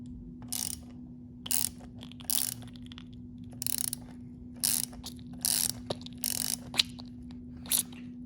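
An Allen key works a bolt on a Honda motorcycle fork, making a series of short, sharp ratcheting clicks in irregular bursts over a steady low hum.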